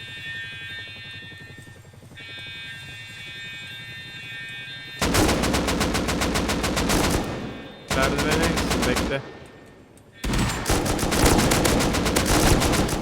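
Long, loud bursts of automatic gunfire in the survival game Rust, rapid continuous shots in three stretches separated by short gaps, with a quieter hum before the shooting starts.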